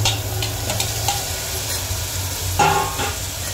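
Cubes of elephant foot yam sizzle and crackle as they are stirred into a hot spiced tempering, a steady close frying hiss with a brief louder burst of sizzle near the end.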